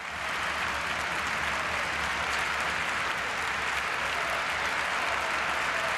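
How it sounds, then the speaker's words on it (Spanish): A thunderous stadium ovation for Nando Yosu at El Sardinero, a dense, steady roar of applause from a large crowd that holds at full strength throughout. "Que recibe pues esta atronadora ovación."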